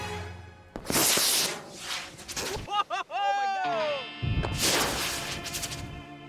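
A fireworks-powered model rocket launches with sharp bangs and a hissing, crackling rush amid overlapping voices and whistling tones, loud and close.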